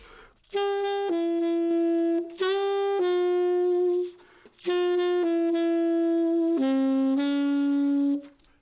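A horn plays a sustained melodic bebop jazz line in long held phrases, with brief gaps between, clear and upfront.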